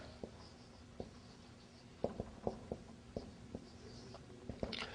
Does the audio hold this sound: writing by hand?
yes